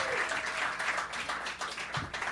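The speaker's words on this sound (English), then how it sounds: "let's have a round of applause for Jimmy" Studio audience applause for comedian Jimmy Dore at a live show, a steady wash of clapping that holds at an even level for a couple of seconds with a few faint voices mixed in.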